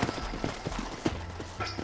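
Horses' hooves clip-clop at a steady walking rhythm across open wild country in the video game Red Dead Redemption, with a low rumble beneath and occasional faint background voices.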